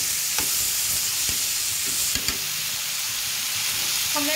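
Chopped vegetables, including capsicum, for poha sizzle steadily in a hot pan, with occasional scraping stirs of a spoon through the frying, close and continuous.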